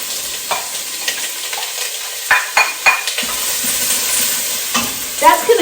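Diced white onion sizzles in olive oil under a close, steady frying hiss, with several scraping stirs and clinks of a utensil against the pan.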